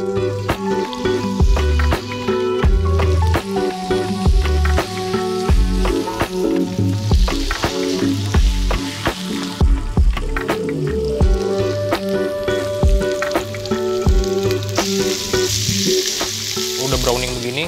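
Peri peri chicken fries in hot oil in a preheated pan, giving a loud, continuous crackling sizzle with wet popping, over a steady tonal backing track.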